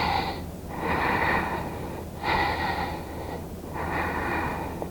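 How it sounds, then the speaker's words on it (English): Deep, slow breathing during a hip-opening yoga exercise, with three or four long, close, airy inhale and exhale cycles flowing into each other at a steady pace, no talking. "inhaling and exhaling as we circle at the hip. Core is engaged and we're breathing nice and deep."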